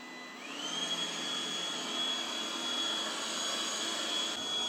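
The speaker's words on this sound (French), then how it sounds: "celui-ci est capable de détecter automatiquement la présence de moquettes et d'augmenter automatiquement la puissance de l'aspiration et de se mettre en mode turbo" A Cecotec Conga Eternal Pet robot vacuum runs in turbo mode on carpet, a steady close whine and airy suction hum that rises in pitch as it spins up, then holds evenly.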